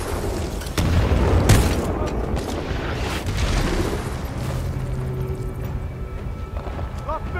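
A grenade blast in the shooter game Titanfall 2 bursts out loud and close near the start, then gives way to a dense rumble of gunfire and combat noise.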